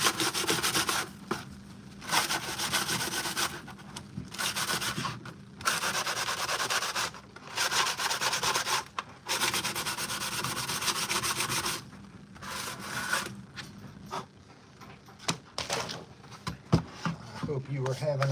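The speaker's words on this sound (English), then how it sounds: "A little sanding on this here helmet." Sanding on a costume armor helmet to smooth rough edges before paint, a steady scraping rub in long strokes broken by short pauses, close to the mic, with a voice talking over parts of it.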